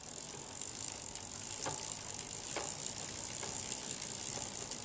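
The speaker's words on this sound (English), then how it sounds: "So right now I'm in first gear. I set the camera down so that I can actually turn the crank." Bicycle crank turned by hand in first gear, with a faint, steady chain whir and light ticking clicks from the drivetrain, quiet and close with no speech.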